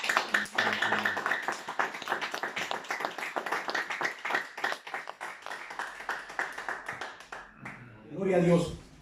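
Church congregation clapping hands as an offering of praise, a scattered patter of claps running under a voice and tapering off near the end.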